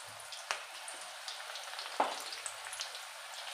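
Corn pakoda batter frying in hot oil, a steady soft sizzle with a few sharper crackles and pops, close and fairly quiet, no voices.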